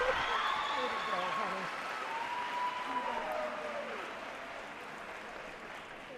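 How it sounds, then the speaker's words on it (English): Graduation ceremony audience at a high school commencement applauding the salutatorian and valedictorian, a faint, distant wash of clapping in a large hall with a voice speaking over it. "One more round of applause for our Salutatorian and Valedictorian."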